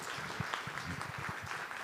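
Audience applause at a family conference after a talk, a dense, steady patter of many hands clapping in a hall, fairly soft and continuous with a few sharper claps standing out.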